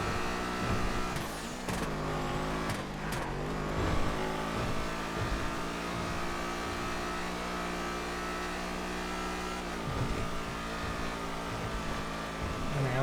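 Majima GT race car engine in GTA FiveM held near top speed on a long straight, a sustained loud droning roar with brief dips and swells, heard alone without voices.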